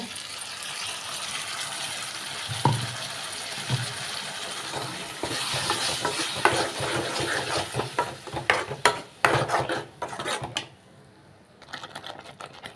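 Onion and tomato paste frying with garlic for a village-style garlic curry, stirred with scraping and clattering over a steady sizzle, with a brief quieter stretch near the end.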